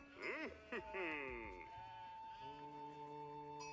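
Sheep at a pasture in Age of Empires 4 bleat in a few wavering calls near the start, then a steadier tone carries on under faint background sound.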